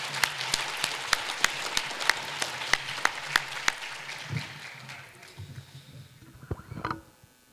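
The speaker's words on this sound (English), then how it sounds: "Let's give one more round of applause to all the folks who've been here for a long time." A community gathering's audience applauds to honor long-time attendees, the clapping dense and steady at first before thinning into scattered claps, with rustling and a few murmurs toward the end.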